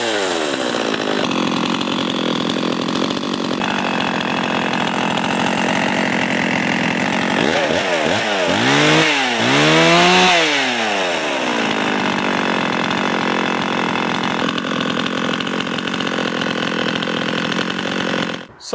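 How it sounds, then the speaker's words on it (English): A Husqvarna chainsaw with a freshly repaired clutch runs loud and close, idling steadily with a couple of throttle blips rising and falling midway before settling back to idle. "I'm going to take it outside and you should not see the chain turn when the saw is idling."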